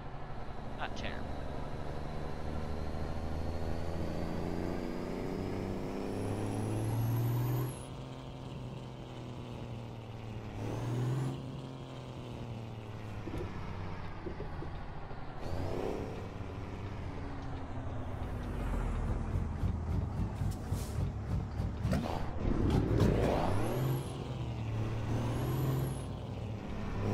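A 1974 Kenworth W900A custom tribute truck rumbles nearby with a low engine and exhaust note, revving at times, while people talk over it and a high air-brake hiss sounds briefly.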